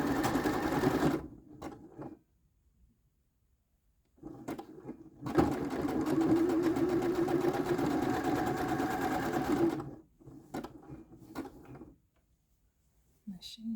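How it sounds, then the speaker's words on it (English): Quilting with a sewing machine: the motor runs in two bursts, a brief one and then a steady run of about four seconds, separated by quiet pauses and light handling noises, with no talking. "Machine's making some interesting sounds today."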